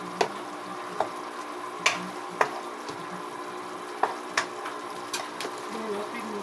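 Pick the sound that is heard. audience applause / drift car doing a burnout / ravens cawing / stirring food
stirring food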